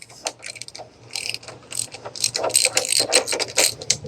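Ratchet socket wrench clicking in rapid bursts while loosening the spark plug on a John Deere lawn mower with a Kohler Command engine, close and fairly loud, with a faint steady hum underneath.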